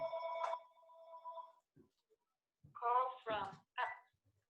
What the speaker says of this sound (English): let me just knock that phone off.